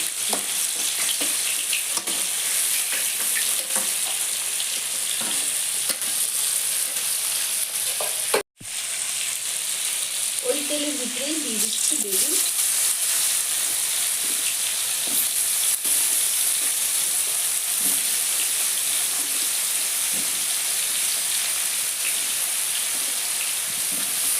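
Fish pieces and a fish head fry in hot oil in a pan for Bengali-style home cooking, giving a steady, loud, dense sizzle that runs almost unbroken, with one brief cutout partway through and no talking.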